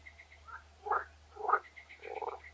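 Frogs croaking at night, a few short rasping calls spaced about half a second apart, fairly faint against a quiet background with no voices.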